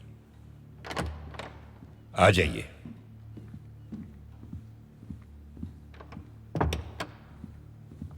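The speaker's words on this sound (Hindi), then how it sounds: "दरवाजा खोलिए।" A door opens in a palace audience chamber, giving a few soft thunks and one louder knock-like impact among quiet ambience. Someone speaks briefly in Hindi.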